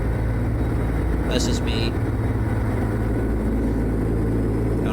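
A Black Beauty Haterbilt truck in American Truck Simulator idles with a steady, low, continuous engine rumble, while someone talks over it.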